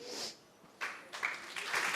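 A church congregation applauding during a worship service, the clapping coming in uneven bursts that start faint and grow fuller and steadier toward the end, heard at a moderate distance in a quiet room.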